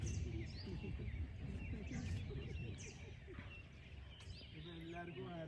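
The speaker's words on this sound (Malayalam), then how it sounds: "കിളികളെ സൗണ്ടൊക്കെ കറക്റ്റ് കേൾക്കാൻ കഴിയും നമുക്ക്" Forest birds chirp at sunrise in Bandipur, a mix of thin, scattered tweets and calls at moderate distance over a soft, continuous ambient hum.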